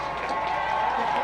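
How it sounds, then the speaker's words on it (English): A homecoming football crowd at a Snow College game cheers and roars in a steady, broad wash of noise, with a commentator's voice running over it throughout. "Badger crowd trying to get into it for homecoming."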